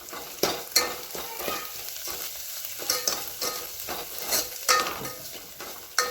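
Spiced ground paste sautéing in a pan for old-style Bhogi bhaji, a steady close sizzle broken by repeated spoon scrapes and stirring clinks, with no voices.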